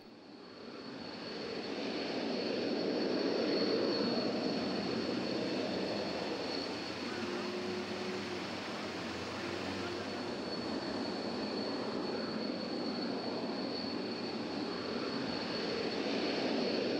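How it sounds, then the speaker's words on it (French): Dassault Mirage IV strategic jet bomber of the French air force, its jet engines giving a sustained, fairly distant roar that swells early and holds steady without pause. "lorsqu'il quitte le sol dans le grondement de ses réacteurs"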